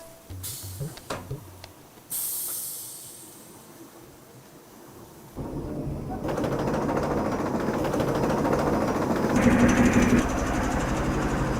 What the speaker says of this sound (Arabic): ماكينة مخصوصة لتجفيف السجاد